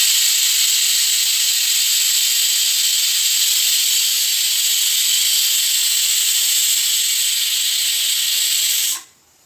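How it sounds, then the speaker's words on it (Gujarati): A pressure cooker boiling drumsticks lets off a loud, steady hissing whistle of escaping steam that runs unbroken for about nine seconds, then cuts off abruptly. "તો બસ એક જ સીટીમાં સરગવો બાફી દેવું વધારે સારું,"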